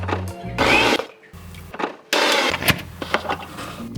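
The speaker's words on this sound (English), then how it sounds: "put it into the blender with all these spices, grinding it into a fine paste" An electric blender grinds tomatoes and spices into a paste in loud bursts that start and stop, with short gaps of quiet between the pulses.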